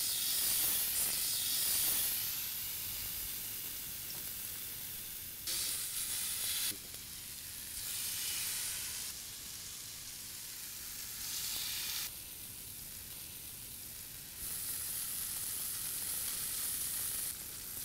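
Tandoori chicken tikka pieces hit hot oil in a pan on high heat, giving a loud, steady sizzle and hiss that swells in bursts as pieces are added and moved, with no talking.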